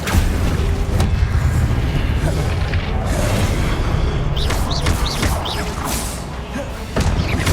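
Spell blasts from the Hogwarts Legacy video game fire in quick succession: loud booms, thuds and crashes over a continuous rumbling bed, with bright whooshing streaks between impacts and a dense, chaotic combat feel.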